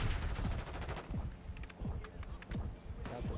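Shotgun fire in Call of Duty multiplayer, with a rapid cluster of gunshot bursts and mechanical clatter over busy game noise, loud and close, with several shots spread across a few seconds.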